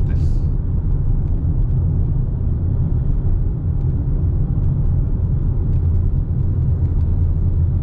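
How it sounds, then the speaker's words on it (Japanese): Inside a Toyota RAV4 hybrid climbing a hill with EV mode off, the engine runs under acceleration as a steady, loud, low droning rumble with road noise that holds constant throughout. "今ねちょっと坂道でアクセル踏み込んでるので今 EV 走行は切れた状態ですね"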